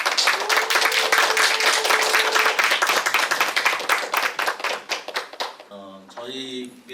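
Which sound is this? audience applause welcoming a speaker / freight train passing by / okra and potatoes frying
audience applause welcoming a speaker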